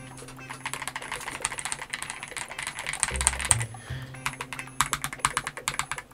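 Fast typing on an LK67 mechanical keyboard fitted with a polycarbonate plate gives a stream of close, crisp clacks in quick bursts, with a short pause partway through and no speech.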